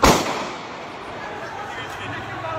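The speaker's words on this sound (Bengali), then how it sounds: "এই যে আর্মি ফায়ার করছে" Army gunfire at Cumilla Medical College at night, a single loud, sharp report at the start that rings out and decays into a noisy background with distant voices.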